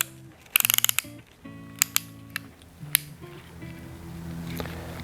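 A piston ring compressor being tightened around a Hemi piston, heard as close, crisp ratchet clicks in short bursts and single snaps over a low mechanical hum.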